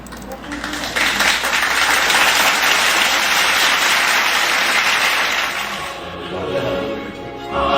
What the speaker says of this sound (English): Round of applause, hallelujah, whichever one you want to play.